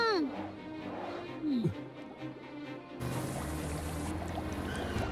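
A storm rises in an animated dinosaur cartoon: after a few seconds of voices and cartoon effects, a sudden loud, steady roar of wind and pouring rain takes over and continues to the end.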